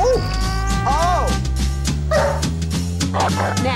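A dog barks and yips in short repeated bursts, mixed with whimpers, over a steady tonal background. The sounds are close and fairly loud throughout.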